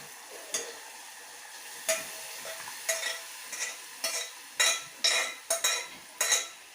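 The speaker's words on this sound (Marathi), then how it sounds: "आता आपण हे शिजलेले कडवेवाल याच्यात टाकूया" Cooked bitter val beans stirred into masala in a pan for a Konkani usal, a spoon scraping and clinking against the pan in a series of short, sharp strokes that come faster toward the end.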